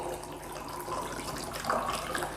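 Water pours into a bowl of soaking vegetables such as okra and tomatoes, a close, steady splashing stream that continues throughout.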